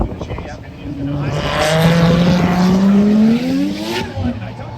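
Drift cars at Mondello Park, Ireland, during an LZ World Tour event pull away from the start line, engines climbing steadily in pitch through the gears, loud and sustained over about five seconds.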